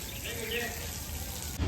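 Running water washes urine stains off walls, a steady broad splashing wash that fills the whole stretch, with a heavier low gush near the end and a voice speaking over it.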